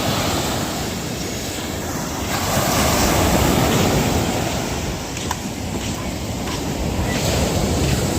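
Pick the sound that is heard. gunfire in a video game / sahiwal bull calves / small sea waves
small sea waves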